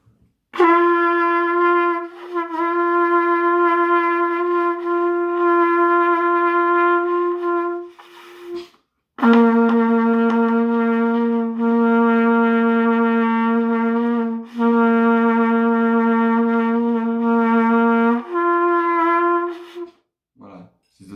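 A trumpet held on long, unbroken sustained tones through circular breathing, loud and close, with the pitch stepping between a few notes and only one short gap of silence.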